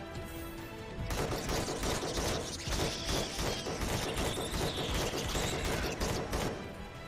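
Rapid automatic gunfire from a weapon in Empyrion Galactic Survival, fired inside abandoned reactors, hammers out in a sustained loud burst of repeated shots lasting several seconds with no talking.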